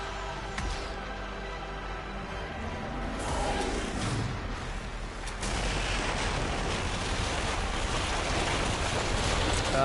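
Missiles launched from the Normandy starship in the sci-fi game Mass Effect 3, a sustained roaring, rumbling wash of blasts and booms that swells midway and stays loud, with no talk over it.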